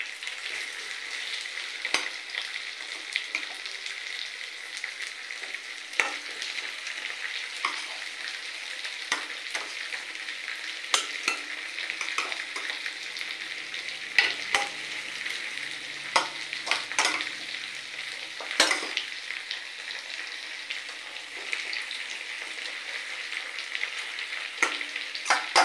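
Pieces of raw fish frying over a layer of onions in a pan for an Odia fish curry, a steady sizzle running throughout with scattered utensil clicks and scrapes.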